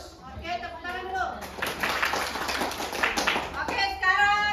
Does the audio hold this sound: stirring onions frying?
no